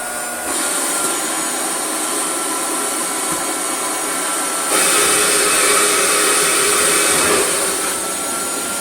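A refurbished Hoover Junior 119 upright vacuum cleaner runs steadily and loudly on its own, its motor whine holding a constant drone that swells in intensity midway before easing slightly near the end.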